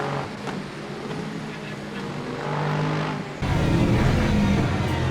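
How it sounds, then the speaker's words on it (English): Penske Porsche race car, number 5, passing in the Le Mans Ultimate racing game during the 6 Hours of Imola, engine drone building and swelling louder and closer toward the end. "Letting the number 5 Penske Porsche pass very safely in through turn 10"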